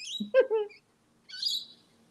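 Rainbow lorikeets calling from trees by the Noosa River in the morning, a few shrill, screechy chirps in two short bursts, fairly close and clear against a quiet background.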